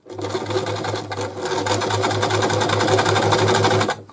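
Brother Boutique 30 sewing machine stitching at the shortest stitch length on light material, a steady fast mechanical hum and rapid rhythmic needle clatter running close and loud for about four seconds before stopping.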